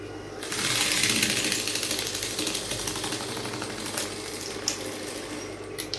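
Sewing machine stitching a Victorian corset blouse, a fast rattling mechanical buzz that starts abruptly, runs loud then eases into a softer whir with a few clicks, no speech.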